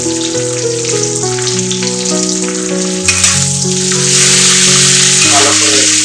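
Chopped onions fry with salt in a pan for a yogurt mutton curry, a steady sizzling hiss running throughout beneath prominent melodic background music, growing slightly louder toward the end.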